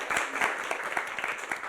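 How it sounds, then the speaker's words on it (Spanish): Applause from the audience at the close of a psychology talk launching a wellbeing program, a fairly quiet, slightly distant patter of scattered claps that rises and eases briefly. "un aplauso también para ustedes"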